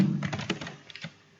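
Quick bursts of typing on a computer keyboard, a handful of close clicks and taps that thin out toward the end, with no talking.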